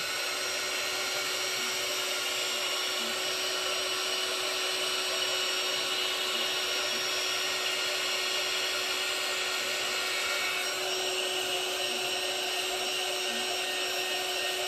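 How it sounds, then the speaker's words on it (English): A heat gun blowing on an ink swirl tumbler, a constant high-pitched whine and airy rush held steadily close by for the whole stretch, with a slight shift in tone near the end. "I'm going to get the heat gun again and I'm going to apply it."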